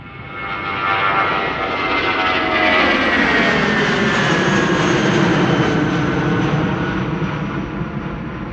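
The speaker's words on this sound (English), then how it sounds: "Vueling flight 8303 to Barcelona, that's a regular A320, 11 years old, first flight April 2014." A Vueling Airbus A320 departing Amsterdam Schiphol for Barcelona makes a loud, sustained jet roar with a whining tone that swells and slowly shifts in pitch as it passes. No one speaks.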